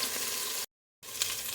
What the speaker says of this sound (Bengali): ফুলকপিটা একটু ভাজা হলে আলু দিয়ে দেব।